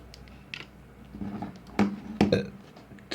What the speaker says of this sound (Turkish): Bizi de geğirme hastalığı tuttu ha